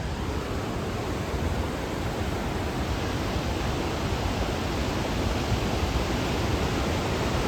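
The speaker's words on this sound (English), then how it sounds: "this is the River leading into Niagara Falls" Rushing water of the river leading into Niagara Falls, a steady, broad roaring wash that stays constant and uninterrupted throughout, with no voices.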